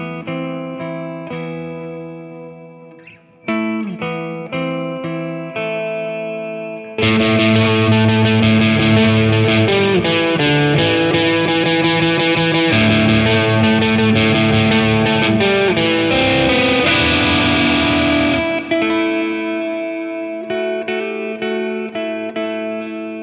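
Electric guitar through a heavy Orange distortion pedal, starting with sparse picked notes, then loud crunchy sustained chords and riffs, close and alone, fading into lighter playing at the end.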